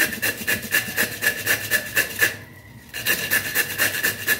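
Food is rubbed against a hand grater in quick, even rasping strokes, loud and close, with a short pause near the end before the scraping resumes.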